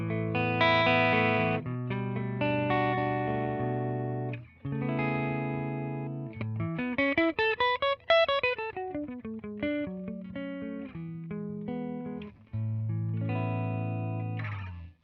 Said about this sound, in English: the Blackface Twin Reverb, normal input, bright DI with a clean tone